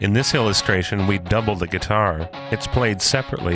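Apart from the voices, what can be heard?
None of the usual background noises is heard.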